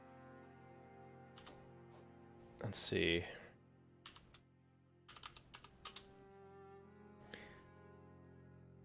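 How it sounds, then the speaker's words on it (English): Keystrokes on a computer keyboard used to enter a character name in an Elden Ring setup screen, coming as scattered short bursts of typing with a brief spoken phrase over them. "let me get the keyboard out. It's a lot easier."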